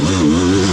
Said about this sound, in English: That's a torquey motor